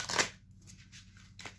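Oracle cards are shuffled for a new draw, giving a brief soft riffle followed by a few faint papery shuffles, close and quiet.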